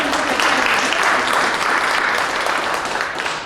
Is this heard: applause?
yes